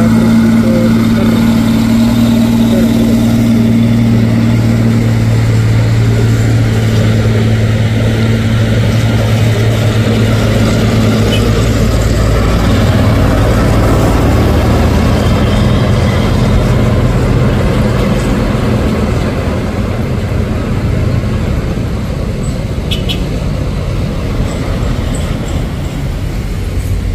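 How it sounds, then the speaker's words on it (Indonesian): A loaded Fuso container trailer truck engine drones loud and near, a deep steady rumble with a low idling hum that swells into heavier growling as it works, continuous throughout. "Truk trailer kontainer Fuso bermuatan"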